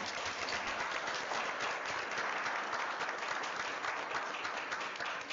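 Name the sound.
audience applause at board meeting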